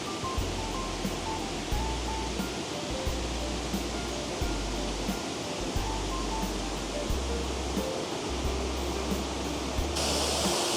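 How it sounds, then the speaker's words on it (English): Water cascading down a series of small falls on a creek along a trail, a steady broadband rush that stays loud and continuous throughout, with a faint low hum underneath. "I am approaching the first set of falls here."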